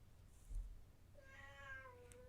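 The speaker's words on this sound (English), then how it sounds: "that's my cat" A house cat gives a single drawn-out meow, faint and fairly close, rising then trailing off over about a second against a quiet room hiss.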